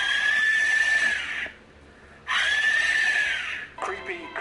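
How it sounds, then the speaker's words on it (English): Aztec-style death whistle blown in two long, piercing, shrieking blasts that sound like a human scream, loud and close, with a short rough burst at the end. "The noise that came out sounded a lot like a human scream"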